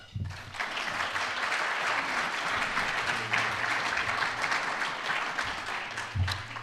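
Sustained audience applause at the City Club of Cleveland welcoming four debaters to an Ohio Issue 1 debate, a dense steady wash of many hands clapping for several seconds without talk.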